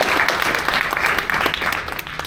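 Audience applause at a theatre scratch night between short plays, a brief, dense burst of clapping that stays strong for about two seconds.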